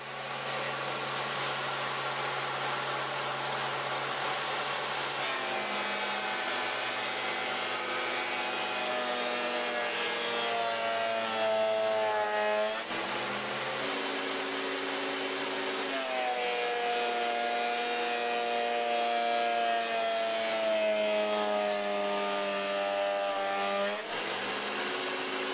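A VEVOR benchtop planer feeds an exotic wood board near its maximum capacity, a loud, sustained motor whine with a cutting roar that shifts in pitch as the board passes through, close up, with no talk.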